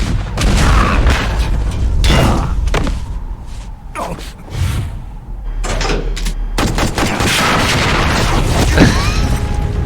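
Gun camera fire in Metal Gear Solid: The Twin Snakes, heavy bursts of rapid gunshots and booming impacts that come in loud clusters with short pauses between them, up close and harsh.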